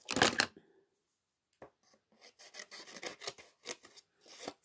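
Scissors snip through excess material in a quiet room: one loud cut up front, a pause, then a run of close, uneven snips and rustling.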